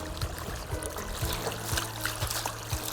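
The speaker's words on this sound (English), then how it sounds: "The water flowing," Water runs steadily from a garden fountain water stone, a continuous close wash of flow with soft rhythmic surges about every half second.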